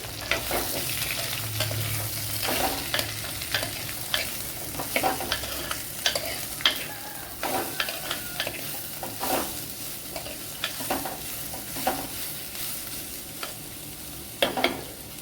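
Sliced onions sauté in a pan for savala aviyal, a continuous frying hiss under repeated scraping stirs and occasional clicks of a spoon against the pan.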